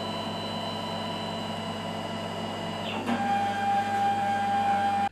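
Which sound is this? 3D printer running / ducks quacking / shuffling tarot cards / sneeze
3D printer running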